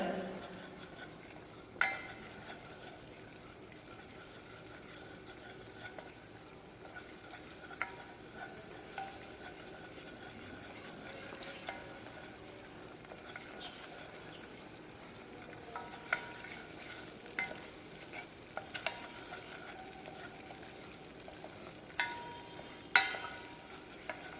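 Ingredients for a cabbage chowder cooking in a pan, stirred until sandy in texture without browning: a faint low sizzle with occasional soft clicks and scrapes of a utensil against the pan, quiet and close.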